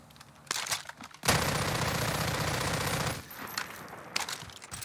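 Sustained automatic gunfire in the video game Warzone as a weapon is fired until its magazine is empty, a loud continuous burst of rapid shots lasting about two seconds, with scattered single shots and game noise before and after.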